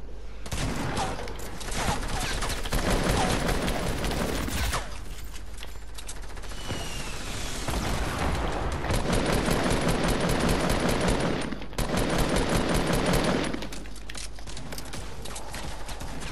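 Bursts of rapid gunfire from the video game Fortnite rattle in long volleys, with brief pauses between them and no voices over the top.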